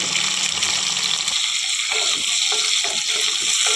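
Okra pieces frying in hot oil in a kadai, with a steady, dense sizzle and crackle and occasional stirring scrapes, close and continuous throughout.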